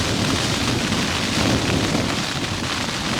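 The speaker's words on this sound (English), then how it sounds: "This was forecast, the heavy rain, but the wind wasn't to be as bad as this." Heavy rain and strong wind battering a tent on a solo night of camping, a loud, dense, unbroken roar of drumming drops and gusts with no voices.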